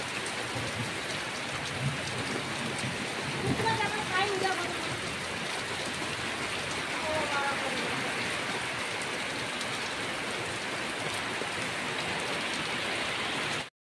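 Heavy rain pours steadily and densely in Tamil Nadu, a constant loud hiss with a few faint voices briefly audible beneath it.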